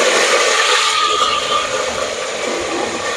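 Star anise, cloves, cardamom and cinnamon fry in hot oil, giving a loud, close, continuous hissing sizzle that eases slightly toward the end.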